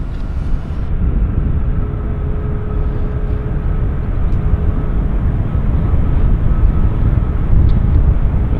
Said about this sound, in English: Aero Mexico pulling into the horseshoe